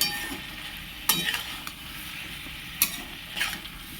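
Masala for a vegetarian khichuri fries in a pan with a soft continuous sizzle, broken by a few sharp scrapes and clinks of a spoon stirring against the metal.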